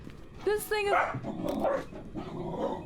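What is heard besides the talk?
dog barking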